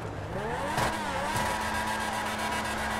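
A fast car in the GTA 5 video game revs and accelerates, its engine pitch sweeping upward and then holding a steady high drone, loud and close.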